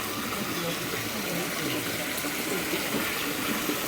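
Water pours from a roof and splashes in a steady, continuous rush, loud and close, without pause.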